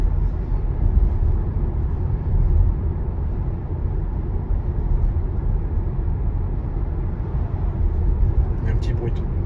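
Steady low cabin rumble of road and tyre noise inside a Tesla Model Y Performance while driving, even and continuous throughout with no voices.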